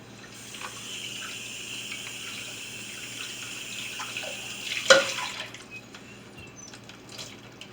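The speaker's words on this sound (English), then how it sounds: "I'm going to give it a quick rinse." A kitchen tap runs steadily as food is rinsed under the stream, a close continuous splashing hiss with a brief louder splash midway before the flow tapers off.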